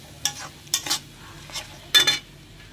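Spice paste for a katla fish curry stirred in hot oil in a pan, with four short bursts of scraping and sizzle at an irregular pace, close and fairly quiet with brief pauses between strokes.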